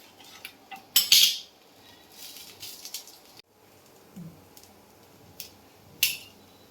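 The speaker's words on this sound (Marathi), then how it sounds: "आता याला आपण कट करून घेऊ." Crispy roasted dosa being cut into pieces on a pan, sharp scraping and crunchy metal-on-pan clicks in scattered bursts, quiet background between cuts and no talking.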